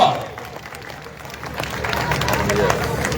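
A large crowd claps and cheers at a birthday celebration for a former deputy mayor in Indapur, the applause swelling under a loud voice addressing them.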